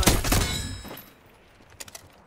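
Rapid burst of XM4 assault rifle fire in Black Ops 6, loud and dense for about a second, then fading into a quiet tail with a few faint later pops.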